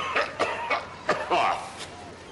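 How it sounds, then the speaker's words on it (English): Several short coughs come in a loose series, close and fairly sharp, with a brief raspy breath between them and no other voices. "that cough sounds serious"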